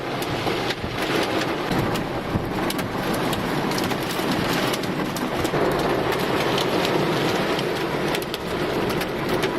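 Heavy rain pours steadily in Moscow or Nizhny Novgorod, a dense, loud wash of drops hitting surfaces nearby without pause, with no voices over it.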